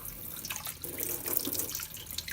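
Water from a tap runs steadily in a broad, continuous wash with small splashing variations, close and alone without any talking.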